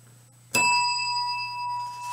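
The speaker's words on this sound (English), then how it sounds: "better get my bell" A small bell is struck once, giving a bright ding that rings on with a sustained, slowly fading tone, close and alone.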